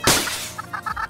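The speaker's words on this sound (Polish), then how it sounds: "teraz kurczaki!" Minecraft chickens cluck in a few quick, mid-loud bursts after a sharp crash from a broken block at the start.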